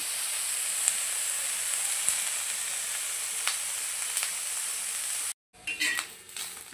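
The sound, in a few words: onion frying until dark brown for chicken masala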